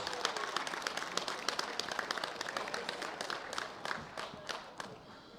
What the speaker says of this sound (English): Give me a rounding ovation for Rolf Foss